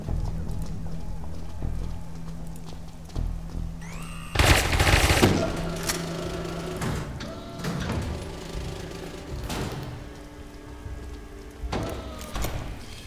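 Bursts of gunfire from the video game Satellite Reign, with several loud volleys and a heavy cluster of shots followed by scattered single reports over a steady game background.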